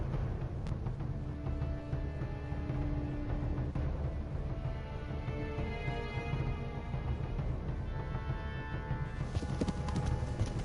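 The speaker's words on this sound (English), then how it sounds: "run, horse, run." Horse hooves galloping in the video game Kingdom Come Deliverance, a steady fast clatter of hoofbeats under a constant game background wash, with no talking.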